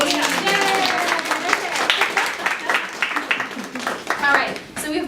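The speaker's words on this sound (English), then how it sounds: "Thank you so much for all clapping." Audience clapping at a performance art festival panel discussion, a dense burst of applause mixed with voices, gradually thinning out over several seconds.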